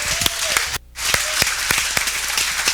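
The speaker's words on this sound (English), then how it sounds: "Please give him a huge round of applause." Crowd applause welcoming a guest speaker onto the stage at a startup community event in New York, dense clapping with several sharp close claps standing out and a brief dip in the middle before it swells again.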